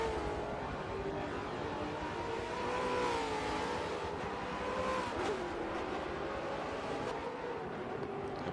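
Supercars race cars run at Laguna Seca, a steady mid-distance drone of several engines whose pitch rises and falls through gear changes and corners, blending into a continuous racing roar.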